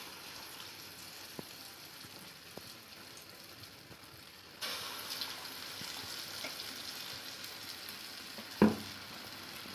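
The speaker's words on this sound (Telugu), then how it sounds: "ఆయిల్ వేడయ్యాక ముందుగా ప్రిపేర్ చేసుకున్న ఉండలను పూర్ణంలోకి వేసుకొని ఇలా డీప్ ఫ్రై చేసుకోవాలి." Pesara burelu, lentil dumplings, deep-frying in hot oil, giving a steady low crackling sizzle that rises to a denser hiss partway through, with a sharp clunk near the end.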